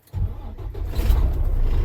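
A truck engine cranks and catches, rising into a deep, steady rumbling idle close by.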